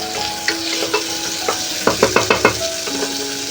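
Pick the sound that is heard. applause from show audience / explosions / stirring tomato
stirring tomato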